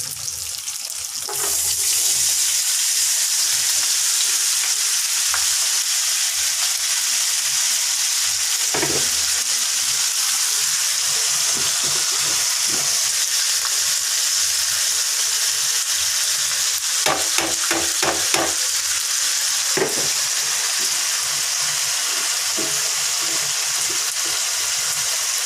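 Fish frying in a pan on a stove, a steady close hiss and crackle of hot oil running throughout with occasional clinks and a brief cluster of tapping near the end, no voices.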